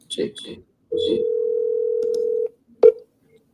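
Phone call ringing through to a voicemail line: a single long steady ringback tone follows a few spoken words, then one short sharp beep closes it.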